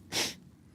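One short, sharp sneeze bursts out close by against a quiet room, over in a fraction of a second.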